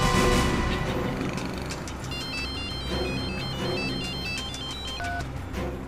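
A telephone rings as a call is placed, a repeating electronic ringtone pattern of bright, stepped tones heard clearly over a low background bed, with no one speaking.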